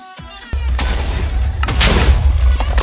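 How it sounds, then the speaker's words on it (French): Explosions go off in the Minecraft video game, a sharp blast followed by a rumbling cluster of booms and low thuds that stays loud and continuous. "j'entends des explosions"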